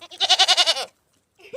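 A Nigerian Dwarf goat on a farm lets out one loud, close bleat with a rapid wavering tremolo lasting under a second, followed by silence and then a brief soft sound at the end.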